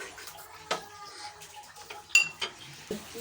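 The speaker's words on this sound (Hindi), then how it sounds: "अब हम इसमें जौ का दलिया शामिल कर देंगे और मिक्स करने के बाद" Barley porridge being stirred into boiled milk in a pot, with scattered clinks and scrapes of a utensil against the metal and soft liquid sloshing, close up and without speech.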